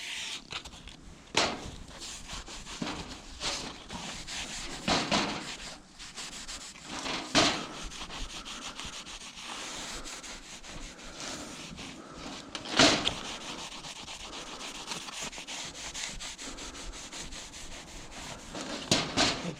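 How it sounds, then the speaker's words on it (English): Painted wooden table legs are rubbed down by hand before varnishing inside a narrowboat, a soft close scratchy rubbing in uneven strokes with occasional louder knocks and scrapes, no talking. "Now I'm going to start rubbing down and varnishing the legs."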